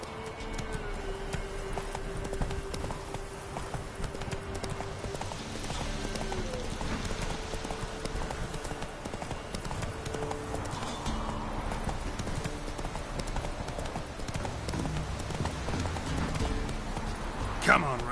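Hooves of the horse Roach clip-clop at a steady galloping rhythm in The Witcher 3, close and continuous, with a rider's voice briefly over it.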